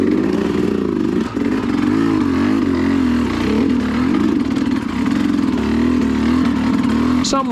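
An enduro motorcycle engine revs continuously and loudly as the bike clutches over rocks on an extreme enduro course, its pitch rising and falling with throttle blips amid clattering from the rough terrain.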